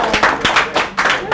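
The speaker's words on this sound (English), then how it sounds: "Good round of applause." A few people clap in a loose, uneven rhythm, brief and close, like a small audience applauding at a property investment event.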